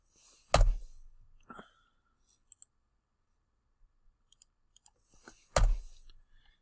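Sharp mouse clicks from a computer mouse used while drafting a kitchen drawing, two loud close clicks about five seconds apart with faint ticks in between, alone in a quiet room.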